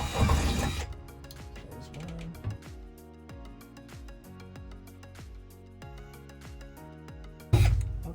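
A power drill with a larger bit bites into a van's metal roof in brief loud bursts at the start and end, with quieter clicking and ratcheting between.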